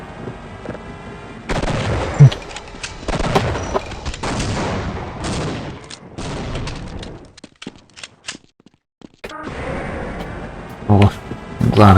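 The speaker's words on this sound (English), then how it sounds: "Oh, I'm glad I got out of the way of those explosions in time." Explosions and gunfire in the Half-Life PC game, a run of loud bursts and cracks across most of the stretch, with a short quiet gap before the blasts return.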